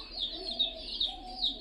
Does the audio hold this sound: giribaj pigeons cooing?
yes